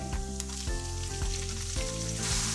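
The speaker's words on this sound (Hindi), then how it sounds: "3 to 4 मिनट के लिए इसको फ्राई करेंगे मीडियम आंच पे।" Chicken and garlic fry in about a tablespoon of oil in a pan over medium heat, giving a steady, close sizzle and crackle with a few soft stirring bumps throughout.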